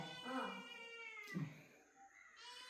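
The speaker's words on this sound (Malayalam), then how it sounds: "ഓ പൂച്ച ഇതാ പൂച്ചക്കുട്ടി വന്നിട്ടുണ്ട്" A kitten meows indoors at home, two or three short, thin cries spaced about a second apart, fairly close but soft, with a person talking quietly nearby.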